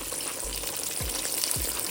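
Breaded chicken fried chicken fries in hot oil with a dense, steady crackle close to the pan, and a couple of soft low thumps cut through it.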